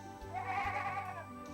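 Goats on a North Korean farm bleat in a loud, close, wavering cry that lasts over a second, with overlapping animal voices.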